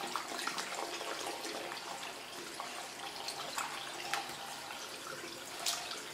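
Running water from a tap trickles and splashes softly as a makeup brush is rinsed over a brush cleaning mat, a faint, steady stream with small splashes.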